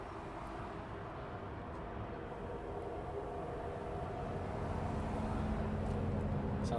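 A Jetstream propeller aircraft at an airport at night gives a steady broadband drone and roar that builds gradually in loudness, heard at moderate distance with no voices.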